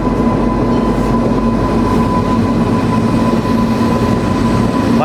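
The SMVB Bengaluru to Visakhapatnam special train rumbles along loudly and steadily, a continuous close roar of rolling wheels with a faint tonal whine heard from inside the coach.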